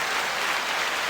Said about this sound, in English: I'm going to use these sound panel thing to put some applause